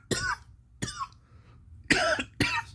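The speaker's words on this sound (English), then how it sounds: "I just have a cough." Four separate coughs from someone with a mild illness, sharp close bursts arriving in two pairs with short quiet gaps between them.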